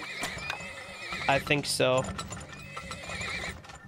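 Horses neigh and hooves clip-clop in the oil-drilling video game Turmoil, two whinnies standing out mid-clip over steady game sounds while someone briefly speaks.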